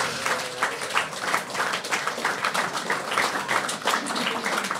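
An audience at a live reading and talk breaks into loud, dense applause, steady clapping filling the room for several seconds with no one speaking.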